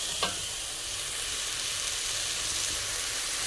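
Onions for pilau fry in a pan with oil, giving a continuous broad sizzle at an even level, with a faint scrape near the start.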